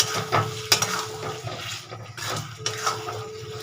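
Chicken masala sautéed in oil in a pan, a continuous wet sizzle with rhythmic stirring and scraping strokes, occasional louder clanks of the spoon against the pan.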